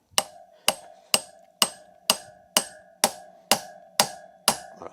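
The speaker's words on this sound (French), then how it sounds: "on prend un autre marteau. On met notre douille en plein milieu et on le fait rentrer" A hammer strikes a socket to drive a wheel bearing into a BMW GS1200 Adventure motorcycle: ten sharp metallic blows at an even, unhurried rhythm, each ringing briefly before the next, close and clear with no talking.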